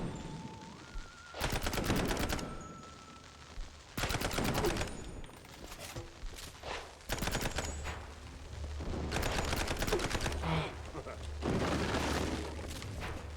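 Bursts of rapid gunfire in the video game Mouse P.I., coming as several loud clusters of shots with gaps between them while a player talks over the game.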